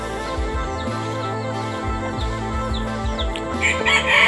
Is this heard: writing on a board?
no